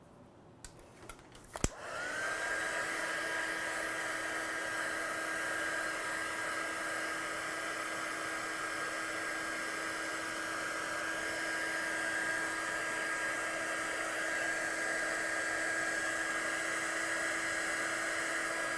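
A heat tool drying a watercolour stamped card clicks on and then blows with a steady, close whirring hiss that holds constant until the end.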